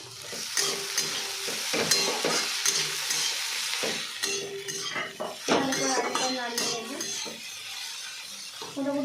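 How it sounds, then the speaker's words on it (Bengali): A metal lid comes off a cooking pot on the stove amid clattering pot and utensil knocks, with frying sizzling underneath and brief clinks of cutlery, nearby and fairly busy. "আমি ঢাকনাটা তুলে দিচ্ছি"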